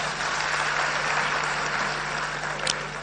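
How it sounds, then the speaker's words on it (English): A crowd at a National Democratic Congress app launch gives the organizers a round of applause, a steady wash of clapping heard alone with a faint hum beneath. "Shall we give them a round of applause?"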